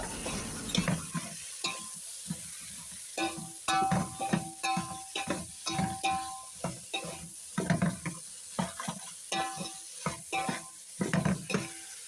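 Chicken sizzles in a hot pan while it is stirred, with repeated scraping strokes and light clinks of a utensil. Close and lively, with no talking.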